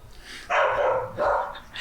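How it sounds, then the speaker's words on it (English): A pet dog gives two short, fairly close barks with a whimpering edge, heard alone in a quiet home during car repair work. "Our dog is freaking out."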